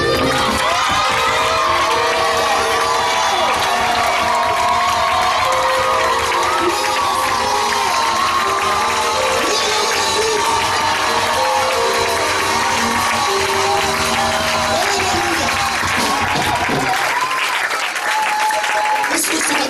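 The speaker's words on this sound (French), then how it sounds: "Ce matin, tu peux t'élever encore pour acclamer très fort le Seigneur." Church congregation clapping, cheering and whooping loudly in acclaim of the Lord, a dense continuous wall of applause and shouts with voices mixed in, easing slightly near the end.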